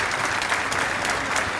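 Steady, enthusiastic applause from a crowd at the opening of the 83rd Exposición Rural in Río Cuarto, following a government minister's speech; continuous close clapping with no voices.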